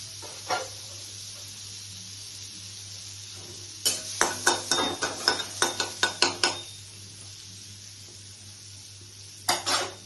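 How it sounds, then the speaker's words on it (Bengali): Paneer pieces fry in butter in a pan: a faint sizzle over a steady low hum, with a quick run of sharp utensil clacks and scrapes midway and a couple more near the end, close and without speech. "পনিরগুলোকে একটু বাটার দিয়ে ফ্রাই করে নিচ্ছি"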